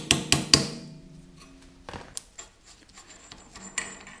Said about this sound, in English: First step is to get that fold over lock tab down.